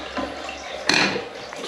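Water rushes into a newly installed toilet pan in a Victorian-style bathroom, a brief close splash and gush that swells suddenly and then settles into a softer trickle.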